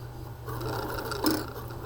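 A Baby Lock sewing machine runs steadily at close range, its motor humming beneath a rapid stitching patter, with a slight bump in loudness partway through and no voices.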